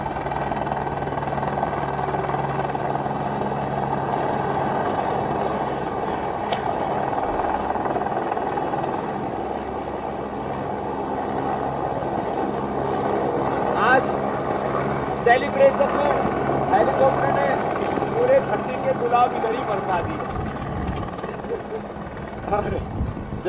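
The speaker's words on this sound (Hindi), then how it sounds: "अरे वाह स्वामी जी, फिर से हेलीकॉप्टर आ गया पुष्प वर्षा के लिए।" A helicopter passes overhead to shower flowers during a televised yoga event, its rotor and engine drone steady and loud, with people talking over it throughout.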